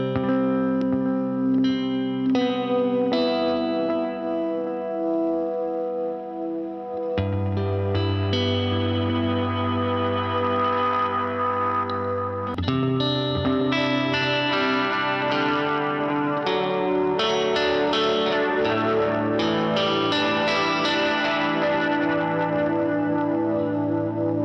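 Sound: electric guitar through pedalboard analog delay and modulation

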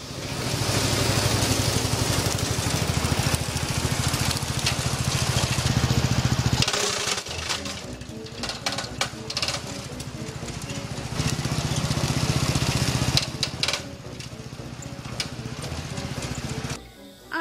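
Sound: riding lawn mower engine

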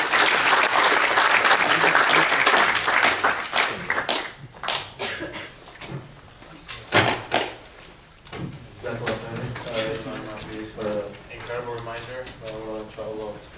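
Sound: audience applause

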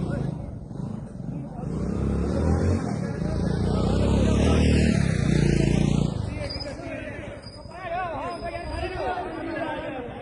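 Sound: car being driven up at a cricket ground

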